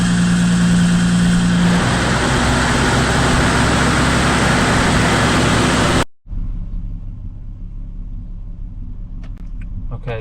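A Nissan Stagea with an RB25 engine idles just after a cold start, a loud, steady mechanical rumble and hum that cuts abruptly partway through and gives way to a quieter, muffled engine drone.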